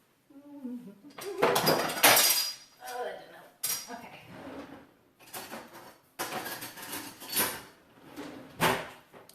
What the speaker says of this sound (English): Dropped a spatula